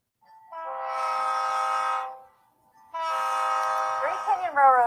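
Verde Canyon Railroad train horn sounding two long, loud blasts separated by a brief pause, with a rising whine at the end of the second blast.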